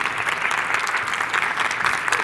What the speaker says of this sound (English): Please help me give her a warm welcome by an applause.